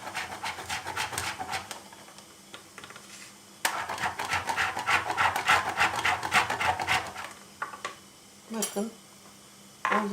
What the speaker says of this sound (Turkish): rendimizin ince tarafıyla sabununuzu şu şekilde rendeliyoruz arkadaşlar